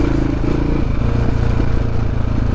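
A BigDog motorcycle engine drones steadily and close while riding, a low rumbling hum with a continuous mid-range roar and no clear revving.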